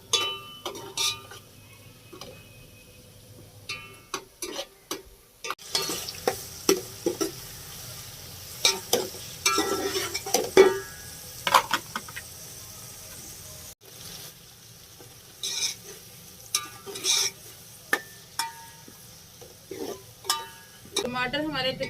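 Tomatoes frying in a pan with ginger garlic paste while cooking biryani, a soft sizzle with occasional stirring scrapes and utensil clinks, under a woman's speech.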